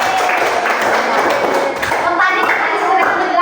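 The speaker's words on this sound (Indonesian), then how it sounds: "Oke, tepuk tangan dulu." A group claps hands together in a classroom, a short burst of brisk, fairly close clapping mixed with the chatter of voices.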